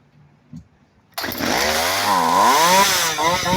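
A scrapped Craftsman chainsaw fires up after a short pause and runs loud and close, its engine revving and dipping in a wavering drone that fills the rest of the moment.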